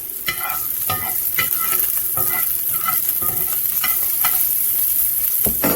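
Onions frying in a pan for beef enchiladas give a steady, close crackling sizzle, broken by repeated scraping clicks of a utensil stirring them.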